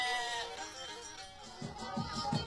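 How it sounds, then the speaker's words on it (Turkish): Lambs in a flock on a highland pasture give a few short, fairly faint bleats near the end, over soft outdoor background noise. "Kuzuların yorgun sesleri duyulur."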